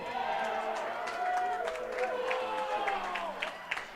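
Members of a men's college tennis squad cheer courtside at a match, a busy mix of shouting voices and scattered claps rising and falling steadily throughout, with one sharp clap near the end.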